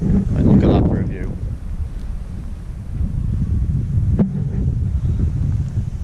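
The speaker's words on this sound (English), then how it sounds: "it's a bit breezy" Breezy wind gusts across the microphone at a wild campsite in Sweden, a steady low rumble with a louder burst near the start and a short crackle later; a voice speaks briefly at the opening.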